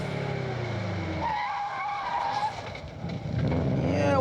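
A rally car in the Targa Newfoundland road rally, 2005, slides through a hairpin turn with a long squealing skid and a revving, straining engine, loud and close, with no talk over it.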